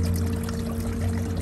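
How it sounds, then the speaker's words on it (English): Coolant water pours steadily from a pulled hose on a Honda BF75D/BF90D outboard, a continuous close splashing flow over a low engine hum. "So you got good flow coming out."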